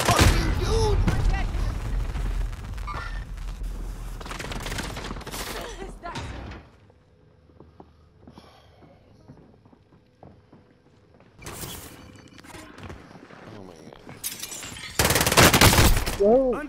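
Gunfire in Call of Duty Warzone on the Alcatraz map rattles out in loud close bursts, falls to near silence, then returns in sharp volleys, with brief voices in between.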